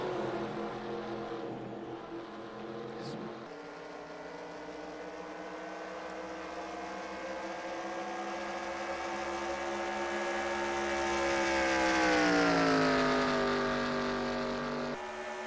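Stock cars in the eNASCAR Heat racing game drone steadily, engine tones rising and sweeping as the pack passes, a continuous moderate roar without talk.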